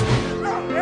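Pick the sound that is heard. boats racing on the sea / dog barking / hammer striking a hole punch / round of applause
dog barking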